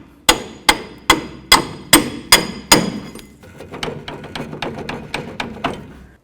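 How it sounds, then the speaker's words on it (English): Hammer blows drive a bolt out of an upper control arm on a 2004-08 Ford F-150: a steady run of sharp metallic strikes, loud at first, then a quicker series of lighter taps. "Now I'm just going to drive this bolt out of here."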